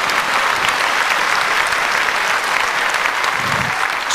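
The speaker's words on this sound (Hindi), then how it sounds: "तालियों की आवाज सुनी अच्छा लगा" Loud, sustained applause from a crowd at Navin Prabhakar's live show, a thick continuous roar of clapping that stays even throughout.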